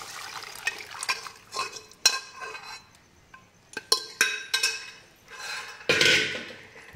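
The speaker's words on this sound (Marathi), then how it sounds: "आता याच्यात आपण जी डाळ शिजवून घेतलेली आहे ती घालूया" Cooked dal goes into a pot of spinach with a run of metal spoon clanks and scrapes against the pot, then a louder wet slosh near the end.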